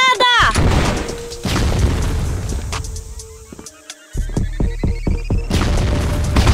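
A grenade goes off in a video game with a loud, booming blast, followed by a second heavy explosion and crackling debris, all loud and close.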